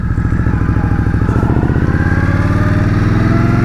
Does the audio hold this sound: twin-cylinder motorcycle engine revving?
yes